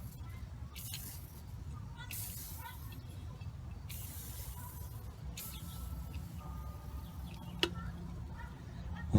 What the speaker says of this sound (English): So got a little bit more orange spray paint,